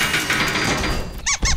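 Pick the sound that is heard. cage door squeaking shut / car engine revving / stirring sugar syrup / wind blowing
cage door squeaking shut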